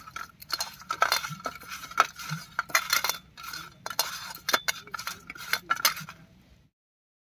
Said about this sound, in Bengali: এবারে লবণ আর হলুদ মাখিয়ে নেব।